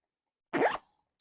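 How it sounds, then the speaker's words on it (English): A double zipper on a fabric messenger bag is pulled once in a quick, close rasping stroke lasting about a quarter second, surrounded by silence. "Has this big flap right here with a double zipper."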